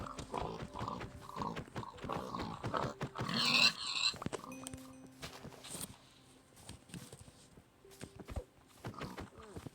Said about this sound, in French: Désolé cochon.